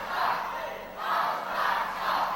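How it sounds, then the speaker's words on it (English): Crowd at a 2006 All Star Wrestling show against the FWA chanting a rhythmic two-part taunt in waves, loud and sustained across the hall with no commentary over it. "you hear the crowd chanting, All Star sucks."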